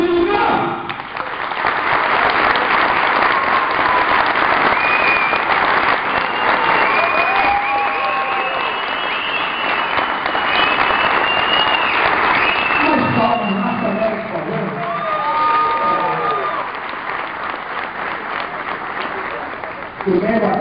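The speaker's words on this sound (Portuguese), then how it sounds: "Yo quiero que ustedes se lleven con muchas palmas." A large comedy-show audience breaks into loud, sustained applause with whoops and cheers, a dense roar of clapping that stays heavy for about twenty seconds, and scattered shouts rise above it.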